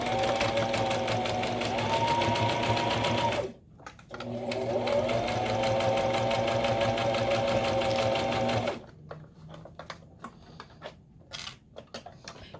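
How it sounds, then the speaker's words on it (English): Sewing machine stitching a long edge seam with a quarter-inch seam allowance, a steady loud mechanical whir running in two long bursts with a short pause between, then stopping into quiet handling noises. "I'm gonna sew along this long edge."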